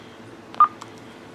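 A 2-meter ICOM ham radio gives a short electronic beep as it powers on, one clear tone followed by a fainter blip in a quiet room.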